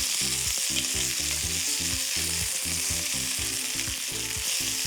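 Pork shoulder steak sizzles and fries in a pan, a steady loud crackle throughout with rhythmic low scraping or stirring sounds underneath, no voices.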